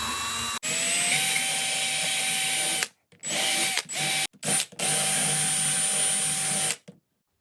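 Loud whirring power sander runs in long stretches down grooves in wood, knocking off high edges, stopping and restarting several times with brief silent pauses between passes.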